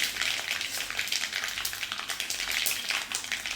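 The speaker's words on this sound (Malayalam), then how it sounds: "അതിലേക്ക് അല്പം ഉലുവ ചേർത്ത് കൊടുക്കാം" Fenugreek seeds sizzle in hot oil after mustard seeds have popped, a dense, bright crackling hiss that holds steady and close throughout.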